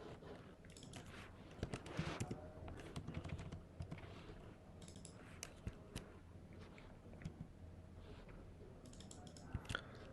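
Quiet, irregular clicking of keys on a computer keyboard, with short bursts and pauses as numbers are typed at a desk.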